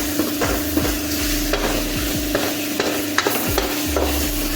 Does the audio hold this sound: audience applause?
no